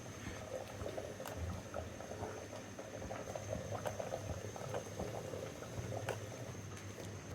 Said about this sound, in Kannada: ಮೀನ್ ಸಾರು ಚೆನ್ನಾಗಿ ಕುದಿತಾ ಇದೆ